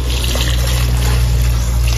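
Water is poured into a cooking pot for lomi, a close, steady rushing trickle over a strong low hum from the surroundings, with no voices heard.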